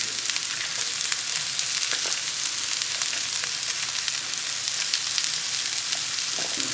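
Spicy Italian sausage frying with onions and garlic in olive oil, a steady dense sizzle running throughout with a few faint clicks and stirring touches, moderately loud and close, no voices.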